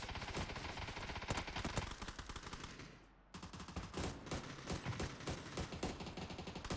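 Rapid automatic gunfire from a video game shooter rattles in loud, dense bursts, breaking off briefly for a moment of near silence before resuming with steady repeated shots.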